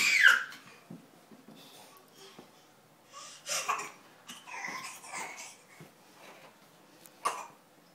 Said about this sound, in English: Are you fake coughing?